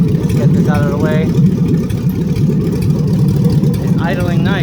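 A 6.2L L99 V8 swapped into a 1974 Chevy Nova idles at its first start-up, a steady low rumble held throughout while someone talks over it.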